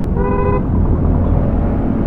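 A short, hoarse car horn honk near the start, over loud engine and road rumble that continues afterward.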